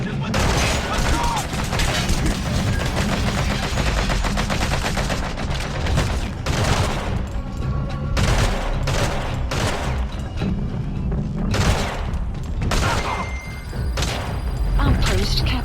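Rapid loud gunfire from the Metal Gear Solid V: The Phantom Pain video game, with sustained automatic bursts, heavy thumps and booms continuing densely throughout under occasional voice.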